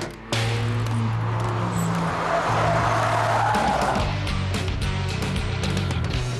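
KTM X-Bow carbon-fibre sports car driving into a corner, its engine a steady loud drone with a rising whine and gravelly tyre noise as it turns, close and continuous.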